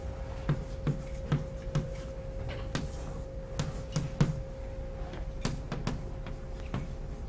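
Chalk writes on a blackboard during a lecture, making a string of short, sharp taps and scratchy strokes at an uneven rhythm over a hum in the room. No one speaks.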